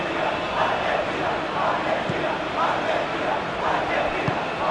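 Football stadium crowd in the eFootball/PES game, Argentina vs Egypt, swells in a continuous, loud roar and murmur beneath ongoing match commentary.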